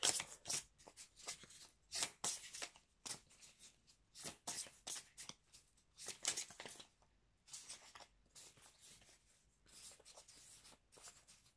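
Oracle cards from the Cantique deck being shuffled by hand, giving quiet, close riffling and sliding bursts in an irregular rhythm with short pauses, and no talking.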